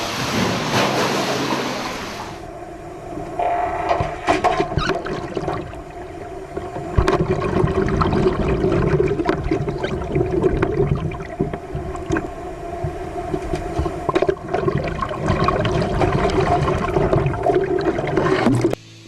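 Floodwater from Hurricane Katrina rises up a building stairwell, a loud, continuous churning rush with sloshing and gurgling that fills the space for the whole stretch.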